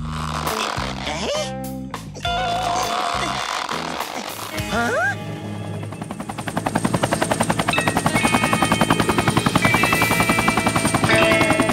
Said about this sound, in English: Father's company chopper!